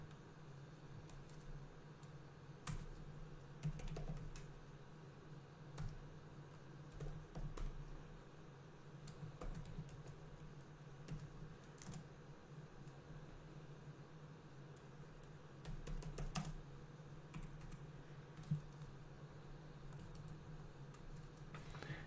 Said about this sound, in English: So I'm writing this command here.